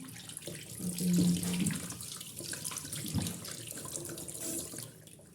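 Steady running water from a tap while squid is cleaned, a continuous close splashing hiss with a few louder gushes, no voices.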